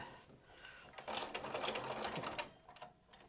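A sewing machine stitches a fabric headband in a quick continuous whir that runs for a couple of seconds, starting and stopping near and clear in a quiet room.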